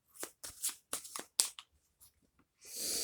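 Tarot cards shuffled close up: a series of short, quick riffles and flicks in irregular bursts, ending in a longer, louder continuous shuffle.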